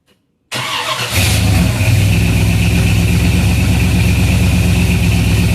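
A 1937 Dodge truck engine cranks briefly and catches at about half a second, then settles into a steady, loud, even idle that runs uninterrupted to the end, with no voices.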